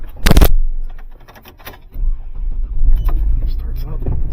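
A GMC Envoy engine starts with a brief loud crank burst at the beginning, followed by clicks and rattles and then a low, steady idle rumble close by.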